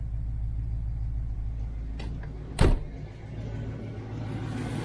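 A warmed-up 1993 Rolls-Royce engine idles with a steady low hum and no tappet ticking, with one short sharp knock partway through.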